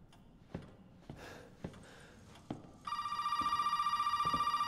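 A telephone in the Resident Evil 7 video game starts ringing with a rapid, bright electronic trill that repeats steadily. Several soft, evenly spaced thuds, like footsteps, come before it.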